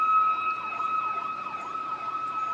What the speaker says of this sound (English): pile on like environmental sound. Stuff like sirens